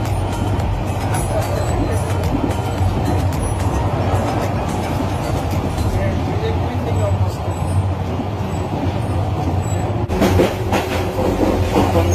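Interior of the Shonar Bangla Express running from Dhaka to Chittagong, a continuous loud rumble of the carriage with rhythmic wheel clatter, and a voice speaking faintly over the train noise.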